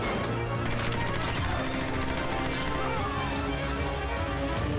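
Rapid gunfire from the Kingmakers video game trailer, dense bursts of automatic shots rattling continuously over a busy battle mix, loud and near throughout.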